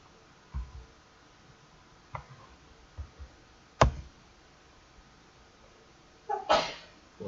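A single short human sneeze bursts out partway through a quiet indoor room, with a few soft thumps and small noises scattered around it.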